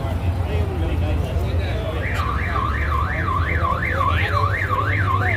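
A car alarm starts its rapid warbling wail at a Cars and Coffee car show, cycling up and down repeatedly, loud and steady over a busy street hum and nearby talking.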